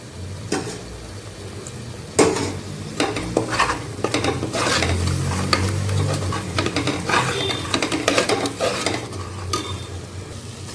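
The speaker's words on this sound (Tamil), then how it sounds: "தயிர் ஊற்றி 1 நிமிஷம் வதக்கினா போதும்." Biryani masala with curd being sautéed in a pan over medium heat, a steady sizzle and fry under repeated scraping stirs and clinks of a spoon against the metal pan, close and continuous.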